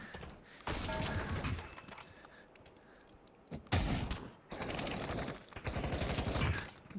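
Bursts of rapid gunfire from a VR shooting video game, several loud rattling volleys separated by short pauses and sharp single impacts.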